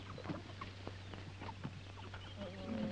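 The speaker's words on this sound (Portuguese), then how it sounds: "Galinha. Tá choca, né?" A broody hen clucks faintly in a 1958 film scene, a few soft, scattered clucks over a steady low hum and quiet background.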